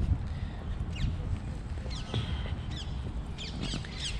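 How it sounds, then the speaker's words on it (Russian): Small birds chirp in short, scattered bursts across Hyde Park in London just after rain, set against a steady wash of low background rumble. "Вы слышите, тут птички поют."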